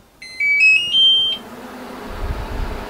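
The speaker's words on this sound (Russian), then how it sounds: "Одновременно включаю включение плиты и таймер на телефоне." An iPlate FRAER-V8 induction fryer and a phone timer switch on together, giving a short run of high electronic beeps in close succession. A faint low hum follows, and no one speaks.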